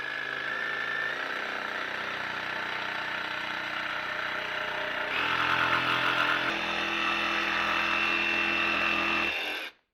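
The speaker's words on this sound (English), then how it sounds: "let's go ahead and get the jigsaw, and then we'll cut these rounded edges off" A jigsaw cuts rounded edges on a thick wooden cutting board for a vintage camper sink cover, its motor buzzing steadily up close, the pitch shifting as the cut bites deeper, then stopping abruptly.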